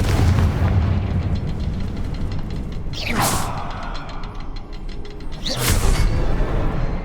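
Confringo fire spell explosions in Hogwarts Legacy, two loud booming blasts about two and a half seconds apart that rise out of a steady rumbling game ambience, with no voices.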